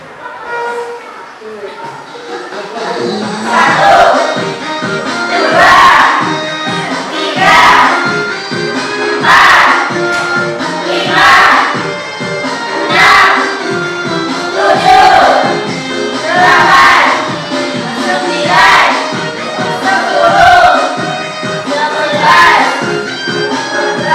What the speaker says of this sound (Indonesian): Beda tepuk tangan